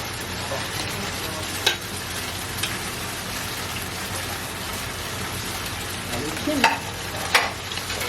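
Eggs frying in a pan, a continuous crackling sizzle close by with a few sharper clinks and scrapes as they are stirred.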